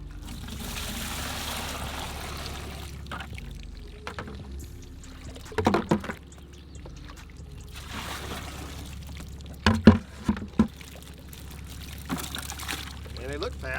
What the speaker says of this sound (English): I'm gonna put some water in there so they really don't really go without it.